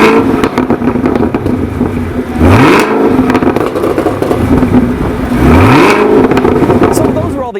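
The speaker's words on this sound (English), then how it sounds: "there's the ZL1's exhaust note, which sounds nice and aggressive." A 2017 Chevy Camaro ZL1 sits close by with a deep, aggressive exhaust rumble, revving twice in sharp rising bursts that fall back to a loud idle.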